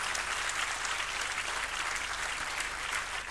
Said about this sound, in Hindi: आप अपने तालियों के प्रणाम से उन्हें मंच पर आने का न्योता दें।